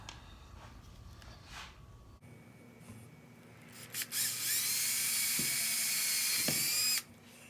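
A power drill whines up to speed and drives a small screw into a wooden knob, running loud and steady for about three seconds before stopping, with workshop handling noises beforehand.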